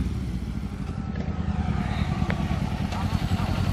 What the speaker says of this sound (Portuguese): Só que a moto é bem mais rápida assim, ó.